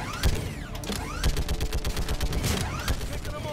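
Rapid gunfire bursts from a Mass Effect 3 combat sequence, dense overlapping shots with mechanical clanks and whooshing effects, loud and continuous throughout.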